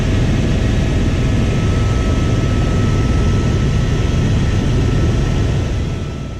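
An Airbus EC130T2 helicopter's turbine engine and rotor during lift-off, a loud, steady, close drone with a constant whine held throughout before easing off slightly at the end.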